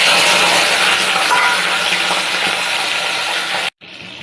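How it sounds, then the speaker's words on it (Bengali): Prawns frying in hot oil in a home kitchen, cooked ahead of a jackfruit-and-prawn curry: a dense, steady sizzle that holds for over three seconds, then cuts off abruptly before a quieter stretch of sizzling resumes. "চিংড়ি মাছটা ভাজা হয়ে গেছে"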